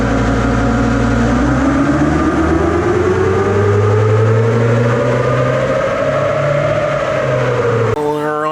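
Stock, untuned diesel engine with only a piggyback module runs up on a dyno, a loud steady drone whose pitch climbs slowly as it revs, with heavy low rumble throughout and an abrupt change near the end.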